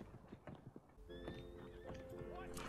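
A horse in Red Dead Online whinnies loudly inside a bar in Valentine, the neigh following a few hoof clops, with a voice talking over the game sounds.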